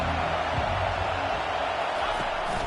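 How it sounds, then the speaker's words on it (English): A packed college football stadium crowd roars in a steady, loud, dense wall of cheering and noise, with a voice talking faintly underneath. "This crowd bringing the energy and noise early."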